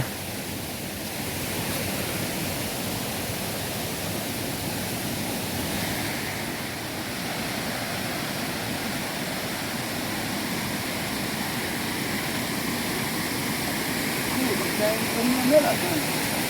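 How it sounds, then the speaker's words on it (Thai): Natural waterfall beside a hillside path leading up to a rice field in Laos, a steady broadband rush of falling water held at constant loudness throughout, with a faint voice near the end. "น้ำตกธรรมชาติทางขึ้นผ่านทางทางผ่านของไปนา"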